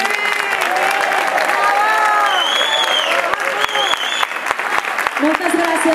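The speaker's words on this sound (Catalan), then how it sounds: "Un fort aplaudiment per ells." A crowd of parents and listeners claps warmly after a P5 class school concert at Escola Bufarà, with high children's voices and cheers rising over the clapping before it thins toward the end.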